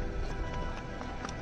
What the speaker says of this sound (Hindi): अखिल भैया का पूरा हाथ बढ़ गया घोड़े पे, वो खुद ही चला रहे